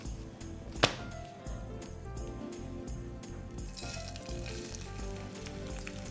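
Bacon sizzling in a few drops of vegetable oil in a deep frying pan, a steady close crackle with one sharp clatter near the start, the hiss growing brighter toward the end.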